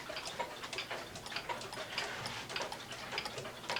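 Steady ticking of a one-day cuckoo clock decorated with an owl and grapes, an even tick-tock rhythm running close and clear throughout with no voices.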